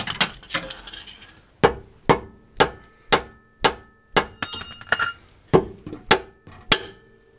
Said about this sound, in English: Just to be safe, I got a breaker bar.